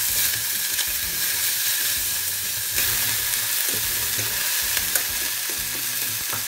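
Ground garlic, ginger and cut scallion frying in a pan over medium heat, a dense, steady hiss and sizzle with faint stirring scrapes underneath.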